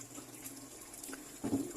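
Tap water running from a faucet over puppies being rinsed, a faint steady trickle that swells into a brief louder splash near the end, no speech.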